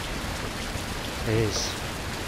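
Steady rain falling in the coach-driving game Fernbus Coach Simulator, a constant hiss filling the background while someone briefly speaks over it.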